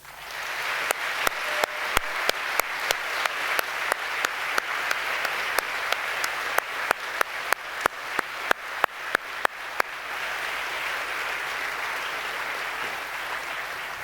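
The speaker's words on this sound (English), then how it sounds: "I think we should give the local organizing team a great applause" Applause from a conference audience, a dense wash of clapping that lasts about ten seconds, cut through by sharp, loud, rhythmic single claps close by, before settling into softer, steady clapping that fades toward the end.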